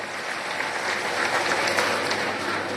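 An audience claps for the performing artists at a stage tribute event, a continuous, fairly loud wash of many hands applauding evenly throughout.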